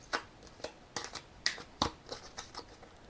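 Tarokka cards shuffled by hand, a series of crisp riffling and slapping bursts at an uneven rhythm, close and fairly quiet with no talking.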